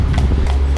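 A horse pulling a small buggy along a street in Mexico clip-clops with steady, close hoofbeats over loud low rumble from the street.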